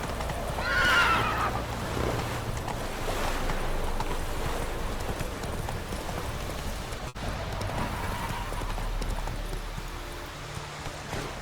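Roach the horse in The Witcher 3 whinnies loudly near the start, then hooves clip-clop steadily at a trot for the rest of the stretch, over a soft wash of background ambience.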